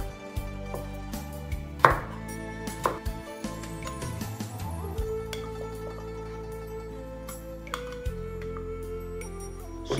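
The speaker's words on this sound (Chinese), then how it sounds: "切点青椒" A knife chops green chili pepper on a cutting board in a kitchen, a quick run of sharp, close taps with a few heavier knocks, steady and near.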